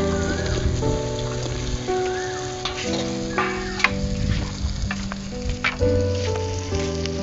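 Potatoes sizzle and crackle steadily in hot oil while being cooked with shing fish and bitter gourd, a close, continuous frying hiss over a sustained tonal background.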